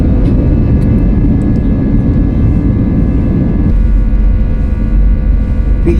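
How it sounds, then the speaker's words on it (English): Passenger airliner accelerating down the runway for takeoff at Bangalore airport, a loud, dense engine roar with heavy low rumble heard from inside the cabin, steady throughout with faint rattles. "Picking up speed for a takeoff."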